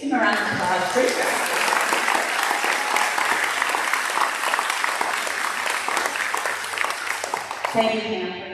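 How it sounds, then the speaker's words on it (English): Sustained applause from a school audience at a fourth-grade celebration, dense clapping running loud and steady for about eight seconds before tapering off. "Give them a round of applause."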